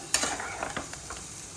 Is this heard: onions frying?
yes